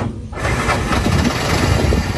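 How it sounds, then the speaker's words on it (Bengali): A used CNG auto-rickshaw engine cranks and catches after a brief quiet moment, then runs on at a rough, throbbing idle, loud and close. "ইঞ্জিনের সাউন্ডটা দেখি কি রকম"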